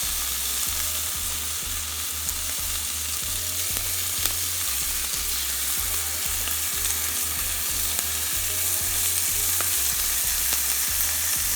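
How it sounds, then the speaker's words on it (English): Bacon strips crisp up in the bottom of a pot for a cheeseburger, a loud, continuous sizzle that holds steady throughout, with a low, pulsing hum running underneath. "I'm just going to place it in the pot bottom like that for it to crispy up"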